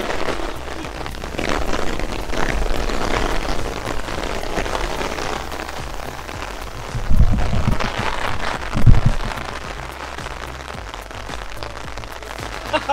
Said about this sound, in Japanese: 大粒だもん、雨。